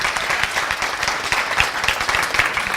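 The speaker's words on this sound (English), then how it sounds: "Give her a round of applause for that." A round of applause fills a room, many hands clapping close and lively with distinct individual claps throughout, fairly loud and without talk.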